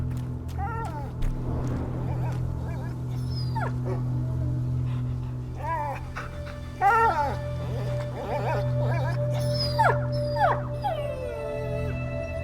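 Dog whimpering, yipping and howling in the A Plague Tale: Innocence video game, a series of high, wavering cries over a steady low ambient drone, with a voice calling out at times.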